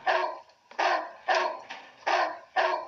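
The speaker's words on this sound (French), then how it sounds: "Il y a un chien-chien." Dog barking in a cheap VR headset video game, five loud, evenly spaced barks with short gaps, close and alone with no talk.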